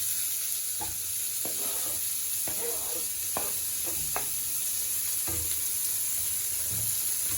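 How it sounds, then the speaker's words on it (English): Chopped onions, two medium ones, stir-fry in a pan for mamak-style fried noodles, a steady close sizzle broken by scraping stirs of the spatula at irregular intervals, with no talking. "these are 2 medium-sized onions which are chopped well, and we'll just stir fry it for a bit"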